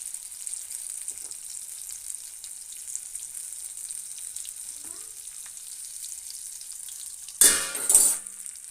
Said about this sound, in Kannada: ಇದನ್ನು ನಾನು 2 ಸೈಡ್ ಮಾಡಿ ಈ ಥರ ಮಾಡಿಬಿಟ್ಟು ಫ್ರೈ ಮಾಡ್ಕೊತಾ ಇದ್ದೀನಿ